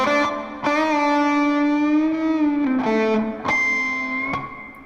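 A distorted electric guitar plays a slow pentatonic lick, sustained notes with bends and a few picked attacks, loud and alone with no talking.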